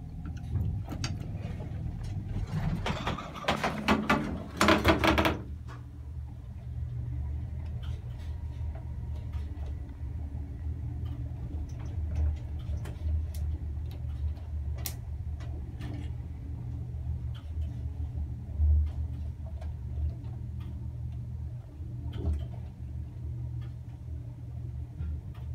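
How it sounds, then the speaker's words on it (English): Old 1974 Staley traction elevator machinery in Suffern, New York hums with a low steady rumble, broken by a loud clattering burst near the start and occasional faint ticks and clunks. "old Staley elevators in Suffern,"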